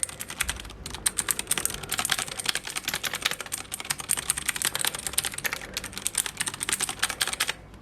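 Rapid typing on a Ducky One mini mechanical keyboard, close and crisp, with a steady stream of clacky keystrokes running almost without pause before a brief stop near the end.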